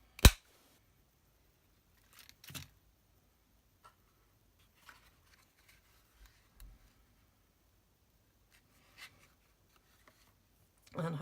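Paper being cut with scissors into a small flower shape from patterned craft paper, a few faint, sparse snips and rustles spread out with long quiet gaps between them.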